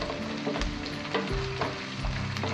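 Green chillies and garlic roast in a hot pan for a Gujarati fenugreek and green pea curry, giving off a steady close sizzle and fry. A spoon scrapes and stirs in the pan several times.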